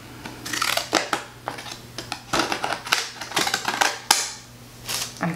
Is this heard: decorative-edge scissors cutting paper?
yes